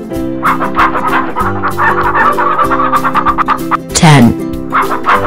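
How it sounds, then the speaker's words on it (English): A rooster gives a brief, sharp crow near the end of a children's animal song, preceded by clucking-like calls mixed into the loud music. "Rooster."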